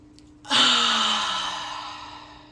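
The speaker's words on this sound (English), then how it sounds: "Open mouth, exhale. Clear out all that breath." A single deep breath let out through an open mouth during a guided morning breathing exercise, a loud, close, breathy exhale that rises suddenly and then fades slowly over about two seconds.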